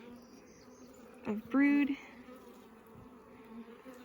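Honey bees buzz around an opened hive being worked frame by frame, a faint steady hum with one bee briefly zipping loud and close, while a person speaks quietly.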